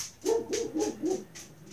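A dog barks at a door indoors, four short, loud, evenly spaced barks in quick succession.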